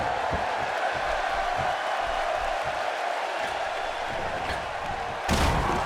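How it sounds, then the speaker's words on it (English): A large wrestling arena crowd roaring continuously during a steel cage match, a dense wash of cheering with a sharp thud near the end. "This crowd going crazy for Stone Cold Steve Austin"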